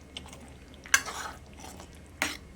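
A pot of vatha kuzhambu being stirred after jaggery is added, with a few faint, scattered scrapes and clinks of a spoon against the pot, separated by quiet pauses.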